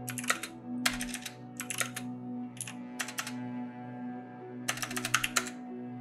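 Bursts of fast keystrokes on a computer keyboard as a terminal command is typed on Fedora KDE, clustered in short runs with pauses between them, close and fairly quiet over a steady electrical hum.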